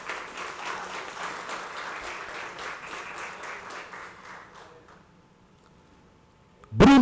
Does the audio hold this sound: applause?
yes